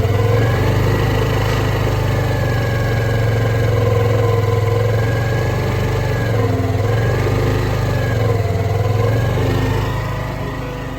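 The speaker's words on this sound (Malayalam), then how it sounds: "നമുക്കിപ്പോൾ സ്റ്റാർട്ട് ചെയ്തതിൻ്റെ എഞ്ചിൻ സൗണ്ട് ജസ്റ്റ് ഒന്ന് കേൾക്കാം" A 2024 Hero Destini 125 scooter idles steadily after being started, its engine producing a loud, even mid-pitched hum that runs continuously and close by, easing slightly toward the end, with nobody talking.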